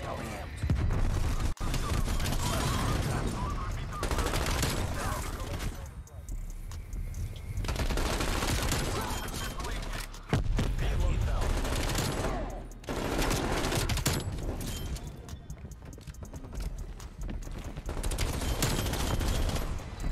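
Heavy automatic gunfire from a strafe run in the video game Call of Duty Cold War, loud dense bursts of rapid shots and explosions in waves with brief lulls, under occasional game sounds.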